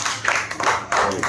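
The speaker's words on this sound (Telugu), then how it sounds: "క్లాప్స్ కొట్టండి" Schoolchildren and teachers clapping at a primary school gathering, a short burst of scattered hand claps in a few uneven pulses, moderately close and fairly quiet.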